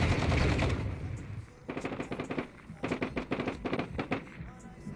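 Automatic gunfire in the Call of Duty Warzone 2 video game, with a loud blast at the start followed by rapid bursts of shots that come in quick rhythmic clusters, close and punchy.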